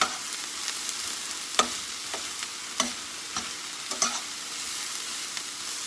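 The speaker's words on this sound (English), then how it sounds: "I need to keep stirring these so they don't" Baked beans stirred in a pot as they cook, a soft continuous simmering sizzle broken by periodic scraping spoon strokes against the pot, close up and with no voices.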